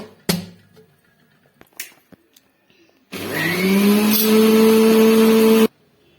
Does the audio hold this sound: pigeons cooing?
no